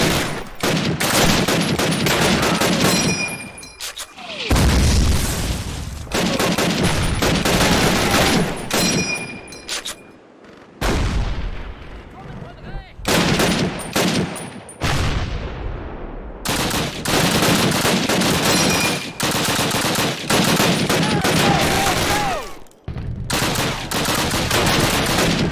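Heavy gunfire in the Call of Duty PC campaign: loud, continuous rifle and machine-gun bursts with brief lulls, filling the whole stretch of a chaotic battle.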